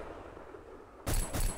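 Gunfire from the video game Black: a quiet opening, then two loud, sharp bursts of shots close together near the end.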